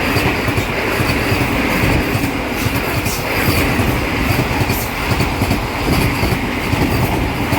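A train running between Tirupati and Charlapalli on a new route, heard as a loud, continuous rumble with rhythmic wheel clatter on the rails and a faint squeal, steady and close for the whole stretch.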